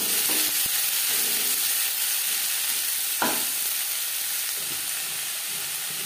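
Chopped new spring onions fry in oil with a continuous close sizzle, broken by a few spatula taps and stirring scrapes against the pan.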